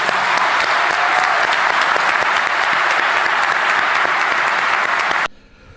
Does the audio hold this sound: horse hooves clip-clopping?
no